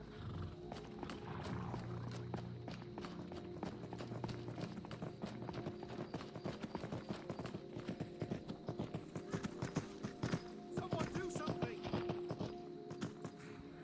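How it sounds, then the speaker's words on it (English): A horse in the Skyrim VR video game moving at pace, with a steady run of clip-clopping hoofbeats and occasional whinnies over a constant game background hum, with a voice talking at times. "What, a rampaging horse?"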